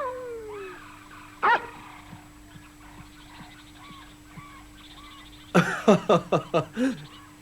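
John the dog whimpers softly in high thin whines over a quiet background, gives one sharp bark, then lets out a rapid burst of about six loud close barks.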